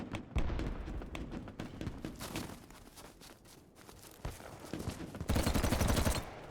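Video game gunfire in a first-person shooter erupts in rapid, loud bursts and volleys, with some thuds and pauses between, and a heavy barrage near the end.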